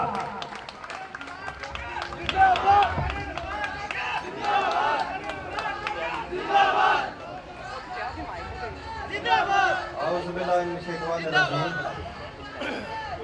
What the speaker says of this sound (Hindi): आप लोगों की तालियों की गूंज से अंदाजा होना चाहिए